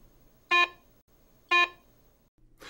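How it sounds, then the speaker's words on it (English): Two brief electronic tones from a Garrett Ace 150 metal detector signal iron nails under the search coil, evenly spaced about a second apart, close and clear against a quiet background. "Iron and nails produce this low-pitch audio signal."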